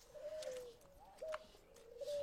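Farm birds coo softly while being fed grain, giving a few quiet, drawn-out tonal calls over a low background hush with no talking.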